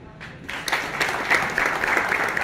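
Crowd applause at an old-age home inauguration in Kolhapur, a dense wash of clapping that swells in quickly and holds steady for a couple of seconds, fairly close and full.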